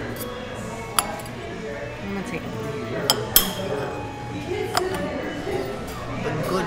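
Metal cutlery clinks against a plate while chopping asparagus at a restaurant dinner, a few sharp separate taps scattered under a person talking and soft room chatter.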